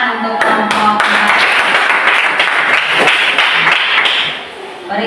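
A classroom group claps for classmates, dense, loud, close applause that runs steadily for several seconds before fading near the end.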